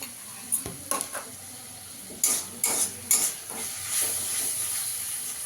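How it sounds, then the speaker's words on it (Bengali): Grated tomato frying with ginger garlic paste and spices in a pan for egg curry, a soft sizzle broken by several sharp scraping stirs of a spoon, close by, with no talking. "টমেটো আদা রসুন বাটা দিয়ে ভালো করে একটু কষিয়ে নেব"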